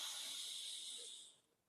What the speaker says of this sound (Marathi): नाकाने दीर्घ श्वास घ्या,